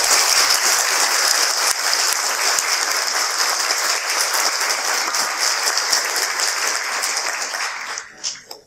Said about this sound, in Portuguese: Eu peço palmas para ele, por favor.